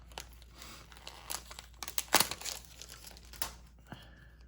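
Crinkly crackling of backing being peeled off scrapbooking paper, a run of close, dry rustles with one sharper tearing burst in the middle, heard on its own without talk.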